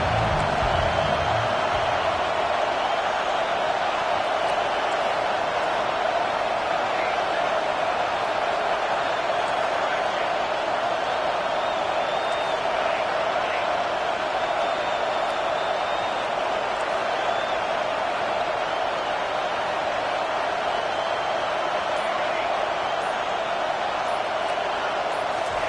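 Big football stadium crowd during a Tennessee–Arkansas game on third down, a steady loud roar of cheering voices that holds for the whole stretch without breaks.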